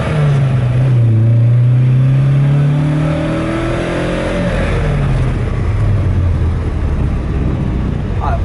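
1972 Alfa Romeo GTV accelerating, the engine note climbing through revs then easing off and building again, loud and close, with someone talking throughout.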